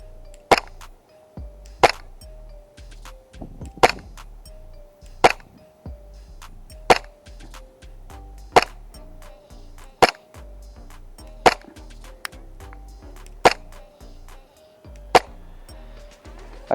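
A KJWorks KP-08 airsoft gun fires a series of about eleven sharp, separate shots at a regular pace, each a crisp snap followed by a short ring, with quiet gaps between them.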